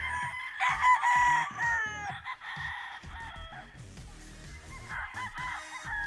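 Gamefowl stags crow and cluck loudly nearby on a breeding farm, with several overlapping calls and some rustling.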